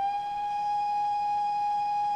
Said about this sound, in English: spacebar whistle, which is looped, the B lit whistle, which is looped